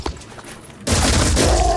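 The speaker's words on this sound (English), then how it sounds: "Step around here. And open fire." Loud burst of gunfire from the tactical strategy game Phoenix Point, a quiet lead-in giving way to a dense, sustained volley of shots for the rest of the moment.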